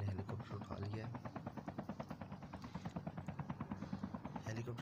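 Helicopter in the battle royale mode of Call of Duty Mobile: the rotor beats with a rapid, steady thumping that sounds close and loud, and it keeps going over the whole stretch.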